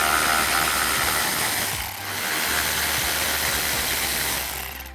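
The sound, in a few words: ratchet removing 10mm bolts from F-150 headlight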